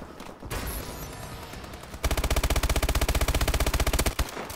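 Rapid automatic gunfire in Call of Duty Advanced Warfare, a loud, steady burst of evenly spaced shots lasting about two seconds after a noisier opening.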